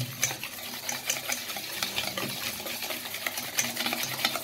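Powdered sugar being stirred into oil in a pan for homemade cookie dough, with continuous rapid scraping and clicking strokes, close and fairly even, no voices.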